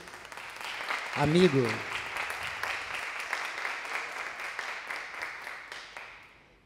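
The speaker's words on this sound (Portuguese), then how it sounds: "Por favor, palmas daí para o nosso" An audience gives steady applause to a guest economist and cultural entrepreneur at a business-round event, with a voice briefly speaking over the start before clapping continues and fades.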